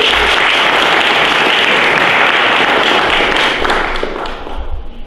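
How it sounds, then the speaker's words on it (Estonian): Audience applause at a regional culture awards ceremony, a dense steady clapping from a large crowd that holds loud for several seconds and then starts to thin out toward the end. "Teeme aplausi Aimele ka"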